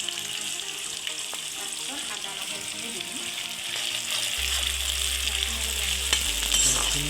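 Onions sizzling and frying in hot oil in a pot with bay leaf, cinnamon and cardamom for homemade pulao, a steady close crackle with occasional stirring scrapes and a low hum joining partway through.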